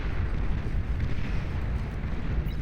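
A tactical missile launcher strike in the strategy game Beyond All Reason comes through as a dense, rumbling roar of explosion and noise that holds steady and loud for the whole stretch.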